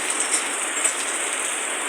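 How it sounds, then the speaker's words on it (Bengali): Steady rain falling late at night, a dense even hiss with faint patters of drops, continuous and unbroken with no voices. "আল্লাহর রহমতের বৃষ্টি হচ্ছে"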